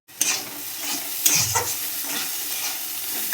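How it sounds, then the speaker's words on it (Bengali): Finely chopped bitter gourd sizzles in hot oil in a pan, with a continuous frying hiss broken by a few sharp scraping stirs of a spatula, close and clear without speech. "আজকে আমি উচ্ছেটাকে কুঁচো করে নিয়েছি, কুঁচো করে তেল দিয়ে ভাজছি।"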